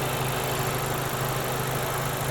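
A 2024 Acura Integra Type S with its K20C1 2-liter turbo engine idles steadily, a constant low hum with a broad even hiss above it, close and unbroken for the whole stretch.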